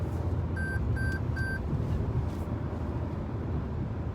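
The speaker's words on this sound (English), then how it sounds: "Heard that beeping?" Three quick, evenly spaced warning beeps from a 2023 Toyota Highlander XLE AWD ring out early, then cabin road noise and engine drone continue alone while driving.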